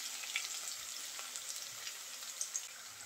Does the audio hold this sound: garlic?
yes